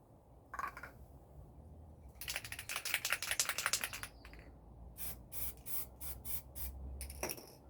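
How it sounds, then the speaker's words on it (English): Short hissing bursts of aerosol spray paint, a longer rattling spritz followed by several quick pulses, close and fairly quiet. "I'll just spray some more into the can."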